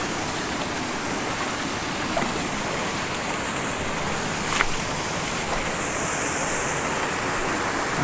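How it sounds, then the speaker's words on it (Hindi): The Mugarpir waterfall in Kanrach, Balochistan, roars as a loud, steady broadband rush of falling water. It is heard up close and continuously, with faint brief knocks and no talk. "ये है जी सेकंड वाटरफॉल मगर पीर का"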